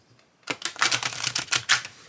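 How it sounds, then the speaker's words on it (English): Oracle cards being shuffled: after a brief quiet start, a quick run of crisp, papery riffling flutters sounds close and fairly loud, with no voices. "All right, one more shuffle."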